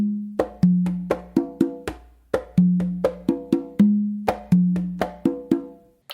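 Conga tumbao groove restarting on each slap, up close and loud with no talk. Crisp slaps and booming open tones in a steady rolling rhythm repeat several times as the pattern cycles back to its start.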